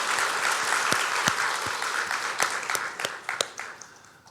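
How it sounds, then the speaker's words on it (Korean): Church congregation clapping during a Sunday worship service, a dense roomful of applause with distinct individual claps standing out, gradually thinning and fading over a few seconds. "우리 축하하고 감사하는 박수 하겠습니다."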